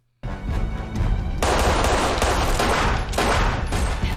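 Dense, sustained gunfire from Agents of S.H.I.E.L.D. season 3 episode 12: a loud volley that swells into a continuous barrage of overlapping shots, with no talk over it.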